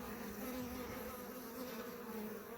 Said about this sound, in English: That's a bee that just emerged recently.